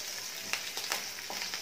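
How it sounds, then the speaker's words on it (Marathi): Green chillies sauté in oil in a pan for a tangy Maharashtrian dahi mirchi, making a close, steady sizzle broken by brief crackles and stirring scrapes. "व्यवस्थित परतून घ्यायची 5 मिनिटं छान अशी"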